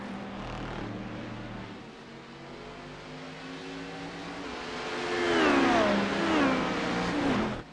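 LMP2 prototype race cars weave through traffic late in a sim-racing series event. Engines whine and rev continuously, with rising and falling pitch sweeps as the cars pass nearby. The engine noise swells louder toward the end.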